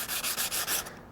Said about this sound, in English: I'm just sanding along the edges here